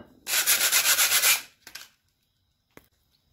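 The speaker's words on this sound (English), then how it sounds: "Once I'm happy with the amount of sanding I've done." A loud burst of rhythmic abrasive sanding strokes on old metal dumbbells, followed by a couple of brief scraping rubs and a faint knock, then silence.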